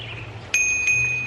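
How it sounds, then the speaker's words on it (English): A bicycle bell on a car-free island path rings twice, bright and clear, with a short ping and then a longer sustained ring over a low background drone. "Is that are you agreeing with me with that bell?"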